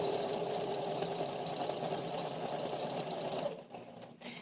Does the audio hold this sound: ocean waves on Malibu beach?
no